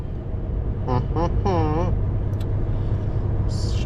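Steady, loud engine and road rumble from inside a car pulling out onto the road before dawn, with a voice speaking briefly over the drone.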